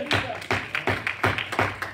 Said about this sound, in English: Come on, give God a hand clap.